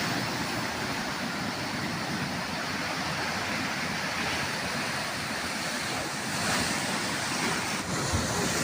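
Sea waves rolling onto the shore near fields in Lingig, Surigao, a loud continuous surf roar with steady wind noise throughout and no talk.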